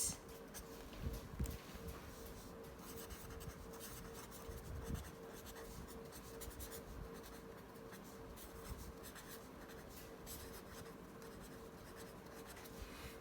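Faint scratching of a pen writing a Fourier series by hand on paper runs steadily throughout, with a few slightly louder strokes, and no voice.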